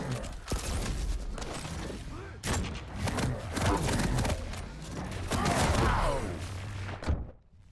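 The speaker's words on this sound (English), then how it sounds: "Oh, shotgun shot." Shotgun blasts in the arena shooter Quake Champions: several sharp, loud bursts spread across a frantic stretch of game audio, with thumps and movement between shots and no clear talk.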